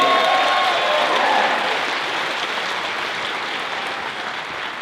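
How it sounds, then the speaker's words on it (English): A theater audience at a magic show gives a loud, sustained round of applause, a dense continuous clatter of clapping that fades slightly over a few seconds, with no voices over it. "Another round of applause"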